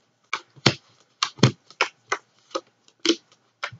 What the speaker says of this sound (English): I shuffle till Spirit tells me to cut the cards